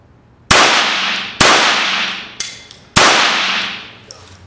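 Customized Creationz Todd McKechnie Mosquito pistol fired on double action, four sharp loud reports spaced about a second apart, each ringing out with a long decaying tail.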